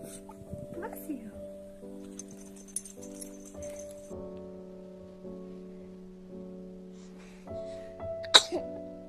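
A baby sneezes once, a sharp burst near the end, over a steady musical background with some voices talking earlier.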